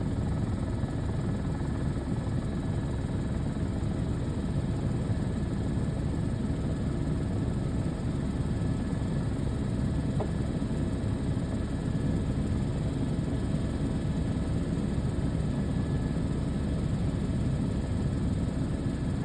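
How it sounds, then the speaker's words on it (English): A helicopter filling a Bambi bucket at a wildfire drones steadily in the distance, a constant low rotor rumble with wind-like noise throughout and no talking. "just the helicopter filling it with that Bambi bucket that we talked about earlier"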